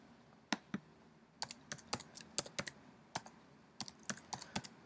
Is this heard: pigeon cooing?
no